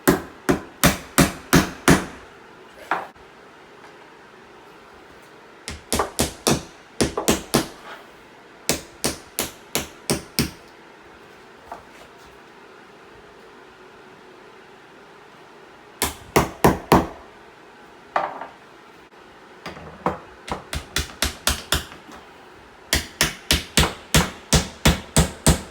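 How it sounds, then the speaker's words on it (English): Hammer blows driving nails into bathroom trim, struck in quick bursts of three to eight sharp raps separated by pauses, close and distinct with no talking. "Didn't want to nail this too hard because it bows in"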